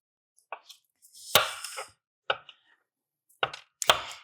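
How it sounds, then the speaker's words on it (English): A knife chops fresh garden vegetables and tomatoes on a board in a home kitchen, a few close, sharp taps arriving in small irregular clusters separated by quiet gaps. "Chopping away."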